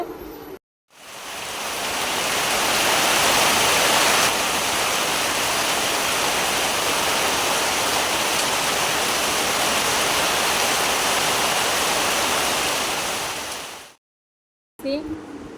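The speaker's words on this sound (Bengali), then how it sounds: "এত বৃষ্টি খুব খুব বৃষ্টি শুরু হয়ে গেছে" Heavy rain pours down in a steady, loud roar that fills the whole clip, with a short gap of silence near the start and another near the end.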